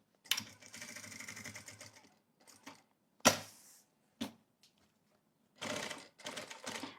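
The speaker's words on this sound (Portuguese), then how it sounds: "vou alinhar aqui para deixar a minha peça bem aqui certinha no meio e vou começar a costurar" Sewing machine stitching a half-moon organizer bag, bursts of rapid mechanical clatter separated by pauses and a few sharp clicks, close and alone.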